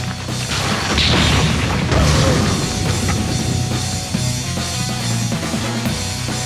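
Crash of a portrait being destroyed in the Bakugan Gundalian Invaders cartoon, a loud booming smash with rumbling debris and mechanical clatter, swelling near the start and then settling into a sustained, layered roar.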